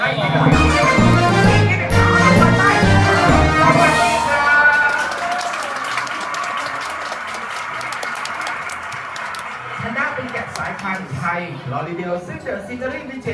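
A crowd claps at a sheep show on a Thai farm. Voices and music come first, then a dense, steady patter of clapping takes over and continues at moderate loudness to the end.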